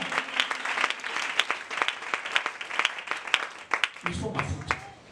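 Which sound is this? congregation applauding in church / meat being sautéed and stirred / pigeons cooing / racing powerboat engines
congregation applauding in church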